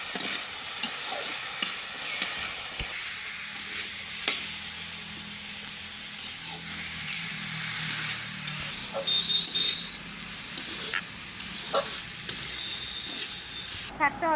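Dhekia and garlic greens fry with dried chili in a pan, a continuous soft sizzle and hiss with scattered spatula clicks and scrapes as they are stirred, nearby, with faint background voices at times.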